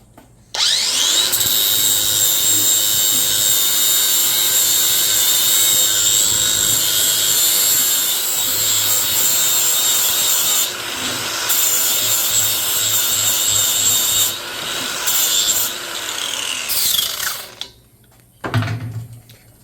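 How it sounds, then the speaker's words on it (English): A brushless three-speed SEESII cordless angle grinder cuts a bevel into steel plate, a loud, steady high-pitched whine with grinding rasp running nearly twenty seconds, briefly dipping once, then winding down at the end. "I'm gonna make a bevel on here."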